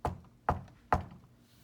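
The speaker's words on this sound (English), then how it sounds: "She knocked on the door." Three firm knocks on a wooden cottage door, evenly spaced about half a second apart, close and distinct with nothing else around them.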